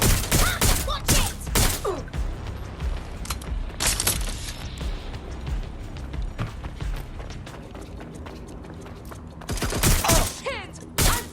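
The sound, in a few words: gunfire in the video game Watch Dogs Legion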